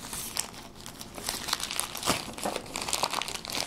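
A wrapped bubble-mailer-style envelope from Sweden is torn open up close, with steady loud crinkling and crumpling of plastic wrap and occasional tearing, no voices.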